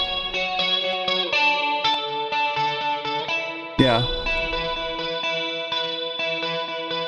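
Shimmering 80s-style surf rock electric guitar notes with a lush digital chorus effect ring out over a steady rhythm, with a brief sharp swell partway through and a short spoken word.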